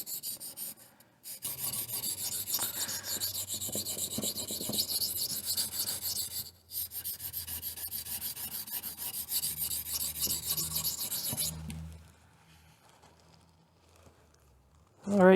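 An 8Cr13 steel knife is stroked steadily across a whetstone in a continuous rasping, grinding rhythm close up that runs for about ten seconds with one short break, then falls quiet.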